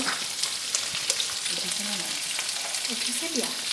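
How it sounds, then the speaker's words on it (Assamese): Diced potatoes fry with turmeric in a pan of oil for an Assamese sour fish curry, giving a steady, close, dense sizzle with a few soft clinks, and no voices. "এই আলুখিনি মই অকণ ভাজি ললো তাৰ পিছত অকণ হালধি দিছো"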